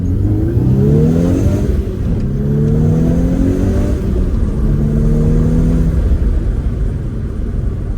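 A 2011 Volkswagen Golf R Mk6 engine in a racing video game climbs through the revs in repeated rising sweeps with gear changes, loud and steady with no talk.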